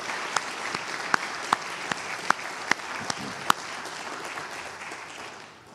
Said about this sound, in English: Let's give these past recipients a round of applause.